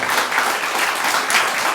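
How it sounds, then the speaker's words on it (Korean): A church congregation gives warm applause for the accompanist after a baritone's testimony performance, a dense, even wash of many hands clapping throughout. "우리 반주로 수고해 주신 우리 정성훈 형제를 위해서 큰 박수 부탁드립니다"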